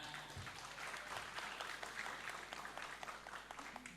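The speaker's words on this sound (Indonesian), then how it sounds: "tepuk tangannya mana?" Audience applause at a school graduation ceremony, a steady dense clapping from a crowd sustained for several seconds without speech.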